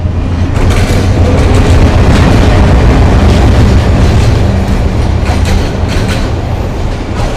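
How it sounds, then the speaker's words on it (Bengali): A train rumbles past close by, a loud, steady roar of wheels on rails with faint clacking, no voices. "আরেকটা ট্রেনগুলো আসছে"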